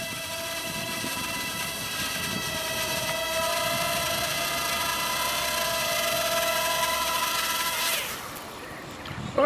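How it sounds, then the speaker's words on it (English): A Zerotech Dobby selfie drone flies back and auto-lands, its propellers making a loud, steady, close whine with tonal hum that fades abruptly near the end as it touches down. "And it's coming back and it's doing an auto landing."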